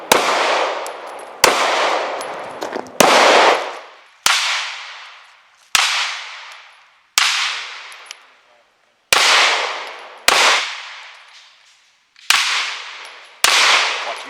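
Shotgun and pistol fired on a shooting competition stage at Fairfax Rod and Gun Club, about ten loud sharp reports spaced a second or so apart, each ringing out and decaying before the next, no talk.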